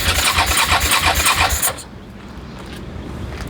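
A neglected Suzuki SV650 motorcycle cranks with a fast, rhythmic starter churn, close and loud, then cuts to a quieter rumble that may be the engine briefly catching.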